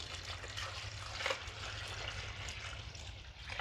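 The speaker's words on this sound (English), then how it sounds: "So I'm going to pour some more water," Water being poured into a self-wicking raised garden bed, a faint steady trickle and splash with a low hum underneath, quiet and continuous throughout.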